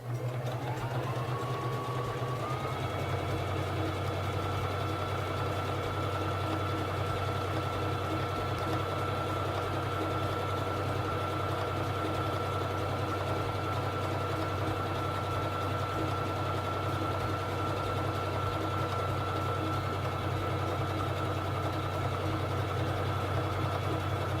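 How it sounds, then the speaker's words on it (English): A Singer Fashion Mate 3333 sewing machine stitching a honeycomb pattern runs steadily and closely, its motor whirring at a constant pace with a fast rhythmic needle clatter, uninterrupted and alone throughout after a brief speed-up at the start. "Now I'm going to sew the honeycomb stitch. Bring down the presser foot lifter and begin sewing."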